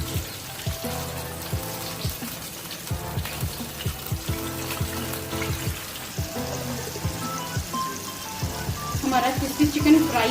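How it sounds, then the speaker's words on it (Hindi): Crispy chicken frying in hot oil, a steady dense sizzle with crackling pops throughout. "हमारा क्रिस्पी चिकन फ्राई हो रहा है।"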